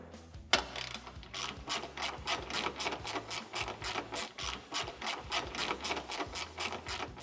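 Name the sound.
removing 10mm bolts from Toyota Tacoma headlight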